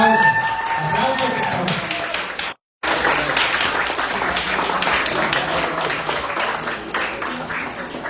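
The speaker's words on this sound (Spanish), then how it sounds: "Aplausos." An audience applauds after a nutrition lecture on diabetes and high performance, with dense, sustained clapping that cuts out briefly near the start before continuing.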